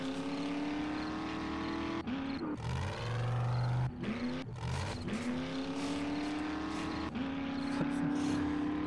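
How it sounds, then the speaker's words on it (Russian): A vehicle engine in the survival video game 7 Days to Die hums steadily and revs up and down through several gear-like pitch shifts, loud and close, with no talk. "Звук мотора, конечно,"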